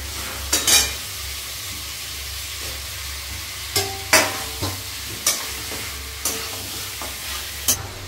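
Mutton cooked with stock fries in a pan, a steady sizzle beneath repeated sharp scrapes and knocks of a spoon stirring the meat, about eight strokes spread unevenly, close and fairly loud, with no talking.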